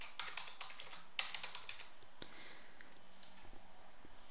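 Someone types on a computer keyboard. The taps are quiet and close, coming in quick, uneven bursts with short pauses.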